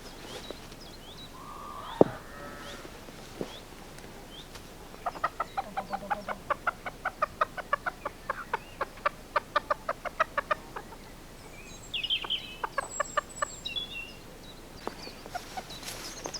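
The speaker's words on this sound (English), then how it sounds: "The chickens will be straight on that." Garden chickens clucking in a steady run of short, repeated clucks, fairly close and clear against quiet outdoor background, with a few scattered calls before and after.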